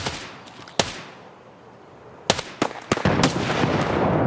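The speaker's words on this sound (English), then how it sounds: "They're shooting at me from up top." Gunfire in the shooter game Escape from Tarkov: a sharp single shot, a pause, then a cluster of loud shots and bursts with ringing decay, fairly close.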